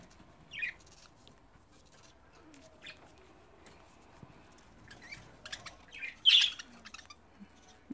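Pet budgerigars squawking and scuffling in a fight, a few sharp harsh chirps and squawks in short bursts against a quiet background, fairly close with no talk.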